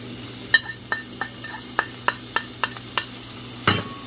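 Garlic, about five cloves, frying in a non-stick pan for Italian meatballs, with a steady low sizzle under a series of sharp spoon taps and scrapes at a regular pace, close and fairly quiet, with no talking.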